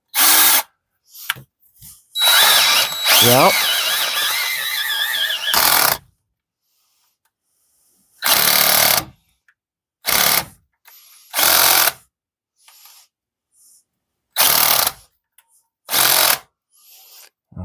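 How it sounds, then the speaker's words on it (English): A power drill bores out the blown spark plug threads in an engine cylinder head: one long, steady whining run, then several short, loud bursts separated by silence, with a brief spoken word. "Let's see if there's more drilling to do."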